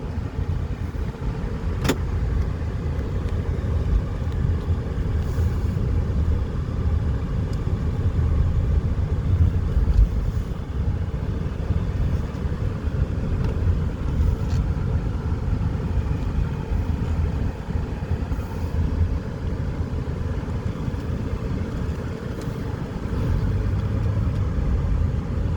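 A 2013 Honda Accord EX-L pulls away and drives, its engine and road noise a steady low rumble heard from inside the cabin throughout, with a brief click near the start.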